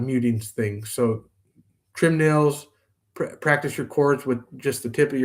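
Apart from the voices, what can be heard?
No everyday noises stand out.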